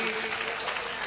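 A crowd at a devotional singing event claps for their parents, giving a dense wash of applause that stays loud and steady through the short stretch.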